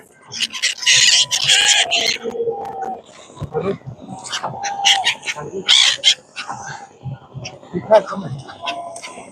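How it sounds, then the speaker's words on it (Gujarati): Many birds call and squawk in overlapping bursts, some harsh like crows, as they come to feed at Triveni Sangam during Mahakumbh, while people talk nearby throughout. "આ બધા પક્ષી ખાવા આવે છે."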